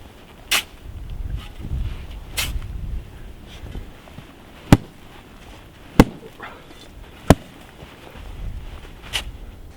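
RH10 rifle fired down an outdoor farm range: three sharp, loud shots spaced about a second apart stand out over wind noise, with a couple of fainter knocks before and after.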